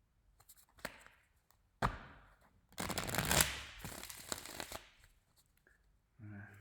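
A tarot card deck riffled and shuffled in several bursts, crisp fluttering rustles separated by short pauses and a couple of sharp taps, close and quiet.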